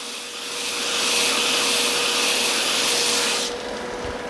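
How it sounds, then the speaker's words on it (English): Sanding a painted wooden napkin holder, a continuous loud abrasive hiss that swells in over the first second, holds steady, then cuts off sharply near the end. "I'm going to sand this down until I get the tops of the letters showing up"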